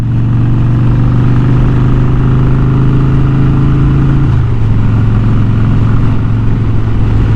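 Harley-Davidson motorcycle engine heard from the rider's seat, a loud, steady rumbling drone with strong low harmonics that drops in pitch partway through as it downshifts, over constant wind roar and no talk.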